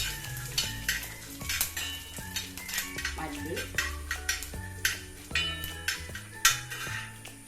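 Dried red chillies and coriander seeds roasting in a pan, with a soft sizzle, a spoon stirring and scraping, and intermittent clinks, while music plays in the background.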